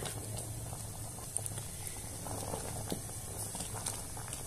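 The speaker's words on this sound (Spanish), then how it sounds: "Está hirviendo nuestra miel y esta receta la estamos haciendo." Honey syrup for picarones bubbles in a pot, close and steady, with a constant low simmer and scattered soft pops and crackles.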